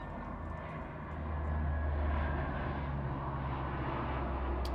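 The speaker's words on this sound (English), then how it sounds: "We got the big jet flying somewhere." A big jet flies over in the video game Farming Simulator 19, as a steady, swelling roar of engine noise that grows louder partway through and holds, with no talking.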